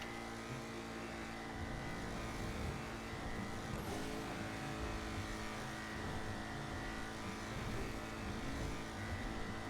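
A car engine in GTA 5 Online, the Emperor Vectre, drones loudly and steadily as the car is driven, with continuous revving and a sustained roar and no talking.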